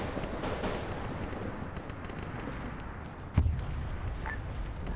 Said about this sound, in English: fire mission on the naval gun